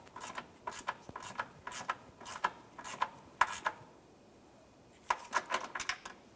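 A 10mm bracket bolt on a 2006–2011 Honda Civic subframe is snugged up with a ratchet: quick, quiet clicking bursts in a steady rhythm, a short pause, then another run of clicks, close by.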